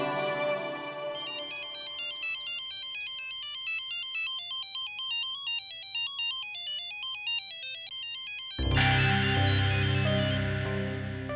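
A phone ringtone plays a repeating electronic melody, steady and clear, before a louder burst of sound cuts in near the end.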